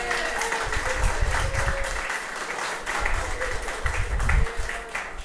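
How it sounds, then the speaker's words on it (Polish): Guests at a Polish wedding reception applaud with steady clapping, while music and voices carry faintly in the background. "Brawa dla taty."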